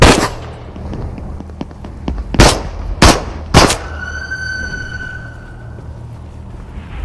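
Gunfire in the VR game Into the Radius on Quest 2: a few faint early shots, then three sharp loud cracks roughly half a second apart, followed by a ringing tone and quiet.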